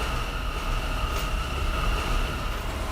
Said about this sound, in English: This is a Grasslands bound K-Local train.